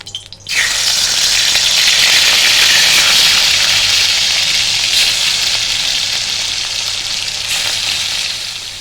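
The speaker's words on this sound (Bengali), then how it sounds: "এখন মাছগুলোকে হালকা করে একটু ভেজে নেব" Turmeric-rubbed hilsa fish pieces drop into hot mustard oil in a wok and burst into a loud, close, continuous sizzle that holds strong and then eases slightly.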